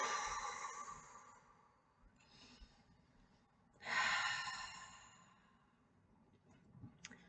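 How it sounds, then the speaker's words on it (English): A slow, deep breath taken as singing preparation: a long inhale, a pause, then a second strong breath, soft and close with no talking. "You're going to breathe like this."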